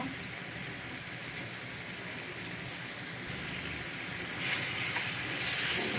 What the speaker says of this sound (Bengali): এবার মশলাগুলো কষে নিলে আমি এই পুর বাটাটা দিয়ে দেব।